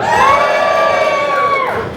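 A large indoor audience at a console-wars event cheers loudly for the PlayStation 3, a dense, sustained roar of whoops and shouts that fades slightly at the end.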